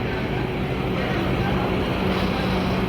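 A bus on the Tirupati–Dharmasthala route via Bengaluru and Hassan pulls into Tirupati bus station, its engine a steady, loud, dense roar that fills the whole stretch without pause.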